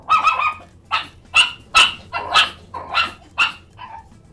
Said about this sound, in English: She's barking like up a storm.